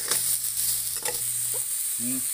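Chopped onion sizzles in a hot pan while being stirred, a soft steady frying hiss with light scraping, plus brief faint voice-like sounds near the end.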